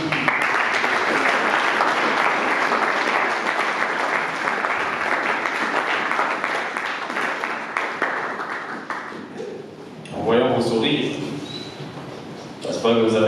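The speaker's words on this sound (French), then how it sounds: "est-ce qu'on peut encore applaudir?" A cinema audience applauds loudly and continuously for about ten seconds after a film screening, then the clapping fades as a person begins talking.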